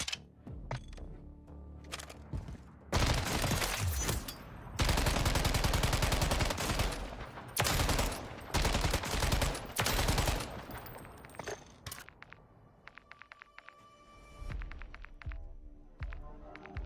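A weapon in Call of Duty Warzone fires in several loud, rapid automatic bursts separated by short pauses, with faint game ambience between.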